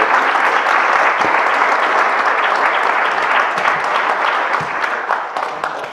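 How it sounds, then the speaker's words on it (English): An audience claps steadily at the closing of a planning and development milestones event, a dense sustained round of applause that eases slightly toward the end, with no speech over it. "And I think all of you deserve a big round of applause."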